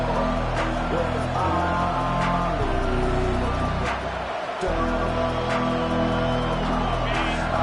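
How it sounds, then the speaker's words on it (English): A stadium crowd in a football video game roars at full volume, a dense, continuous wall of cheering that briefly dips before surging again, under intermittent play-by-play commentary. "This crowd, full throat, splitting the eardrums and letting them know it's going to be a long day."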